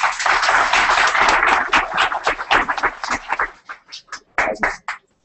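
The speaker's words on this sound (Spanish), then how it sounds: "Un aplauso, por favor." Audience applause for a speaker at a 2013 community managers conference talk, a dense burst of clapping that thins out after about three seconds into scattered, isolated claps before stopping.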